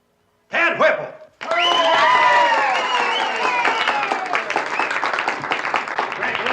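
Studio audience at a talent contest breaking into loud, sustained applause and cheering after a short burst of noise, steady clapping filling the rest of the clip.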